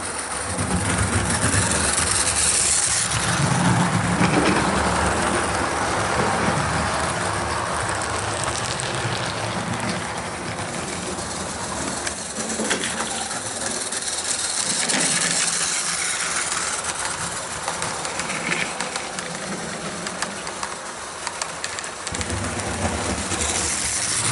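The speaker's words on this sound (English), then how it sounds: "one of my old mainline Jubilees pulling a rake of coaches" A model Jubilee mainline locomotive hauls a rake of coaches on a layout, giving a continuous close rumbling hiss with steady running noise that eases slightly midway, no voices over it.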